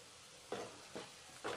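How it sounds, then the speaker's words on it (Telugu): Chopped onions sizzle in hot oil in a pan while being stirred, with three short scraping, hissing bursts over a quiet, faint background. "ఆయిల్ హీట్ అయిన తరువాత తరిగిన ఉల్లిపాయ ముక్కలను అందులో వేసుకొని ఒకసారి బాగా కలుపుకోవాలి"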